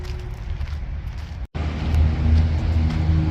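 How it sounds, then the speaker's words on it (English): A winch snugs an RX7 into the back of a Freightliner, its motor rising into a steady, close electric whine and strain after a brief cutout, over a low background rumble. "let's see where this gets me when I snug this winch up"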